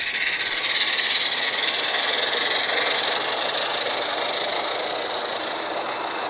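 Steam locomotive The Yorkshireman on the Aireside Railway, a garden-scale line, running past a village: a steady broadband hiss and chuffing rumble, fairly loud and continuous, easing slightly as it passes, with no talk.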